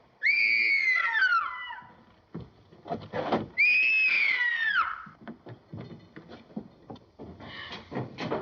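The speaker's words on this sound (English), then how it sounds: "What made you scream?" A person lets out two long, loud, wavering screams aboard a ship, each followed by rustling and knocking sounds.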